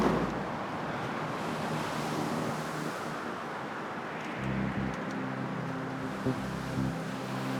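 Massive ocean waves at sea make a steady, loud roar mixed with rushing wind and buffeting noise close to the microphone, continuous throughout with no talking.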